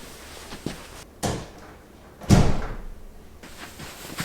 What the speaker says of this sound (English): Right, I'm gonna close the doors.